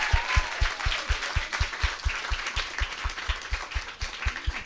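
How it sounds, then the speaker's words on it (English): An audience applauds the speakers at a talk event, a sustained crowd clapping at moderate volume. A regular low thumping pulse runs underneath, and faint voices can be heard. "just to give a big round of applause to the Nzinga Effect, Eliza and Mutsa, and all of the amazing speakers today"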